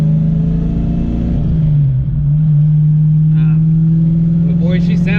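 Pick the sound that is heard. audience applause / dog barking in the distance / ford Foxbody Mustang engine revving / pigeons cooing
ford Foxbody Mustang engine revving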